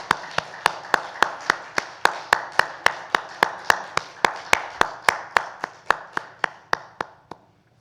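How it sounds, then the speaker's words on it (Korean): Congregation in a Korean church clapping in unison at a Sunday service, sharp evenly spaced claps, about three per second, loud and steady for several seconds before stopping. "하나님께 영광의 박수 올려드립니다."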